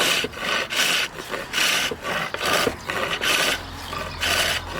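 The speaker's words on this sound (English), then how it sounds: "Listen to the sound the chisel makes." Rhythmic scraping strokes of a flat chisel smoothing wood, each pass a rough rasp repeated about once a second, close and fairly loud.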